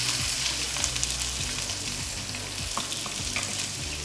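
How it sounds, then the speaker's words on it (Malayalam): Chopped shallots fry in a pan, a steady close sizzle with recurring scraping strokes as they are stirred, moderately quiet and without speech. "ഞാനിവിടെ കൂടുതലും എടുത്തേക്കുന്നത് ചെറിയ ഉള്ളിയാണ്. അത് ഇതിലേക്ക് ഇട്ട് കൊടുക്കുകയാണ്,"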